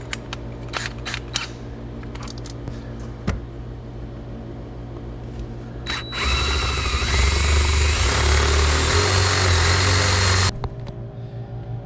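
A drill bores half-inch holes through the passenger-side floor of a Jeep Cherokee XJ. Scattered clicks and handling knocks come first, then a loud, steady motor whine runs for about four seconds before cutting off.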